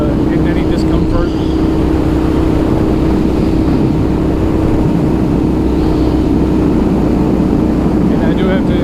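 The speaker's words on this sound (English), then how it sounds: "It does have a very loud V-twin sound to it" A 2007 Aprilia RSV 1000R V-twin motorcycle being ridden, its loud exhaust a steady low drone under heavy wind rush for the whole stretch, with a voice talking over it.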